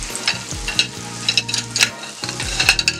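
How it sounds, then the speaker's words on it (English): Brown and white sugar melting with apples in a hot pan, a spoon stirring through a close sizzle with scrapes and clicks, over a low background hum. "Stir it around here and let that get nicely melted down"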